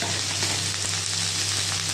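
Chopped ridge gourd hits hot oil tempered with dried red chillies and whole spices, giving a continuous close sizzle with faint scraping underneath.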